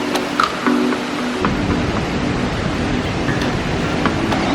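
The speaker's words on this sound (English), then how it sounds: "Big waterfall, isn't it?" A big waterfall roars in the Groppensteinschlucht gorge in Austria, a steady, loud, dense rush of falling water that continues unbroken throughout.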